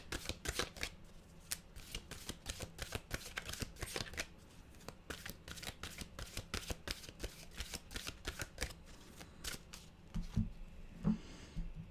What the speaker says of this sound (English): We'll get a mantra card.